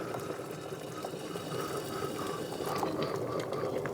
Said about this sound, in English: kettle's boiled. Boiling water.